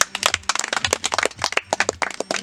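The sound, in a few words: group of teen fathers clapping for themselves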